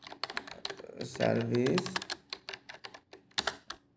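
Rapid keystrokes on a computer keyboard while entering placeholder text in website-builder settings, a steady clatter of close taps running throughout, with someone speaking over the middle section.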